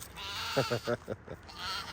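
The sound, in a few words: goats bleating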